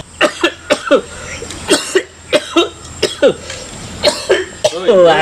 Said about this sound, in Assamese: তই দুটা কাহ মাৰিলে কৰোণা নহয় দে